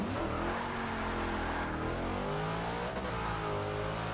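Race car engine in the Forza video game revving hard through rising pitch sweeps, with quick gear shifts breaking the climb, loud and continuous with no talking.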